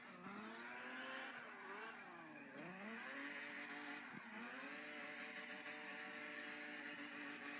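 Car engine revving hard in a racing game while driving without assists, pitch sweeping up and down through sharp dips and climbs, loud and steady throughout with faint tire squeal.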